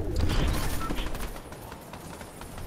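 Video game gunfire rattles in dense, rapid bursts, loudest at the start and continuing steadily underneath for the whole stretch, with no voices over it.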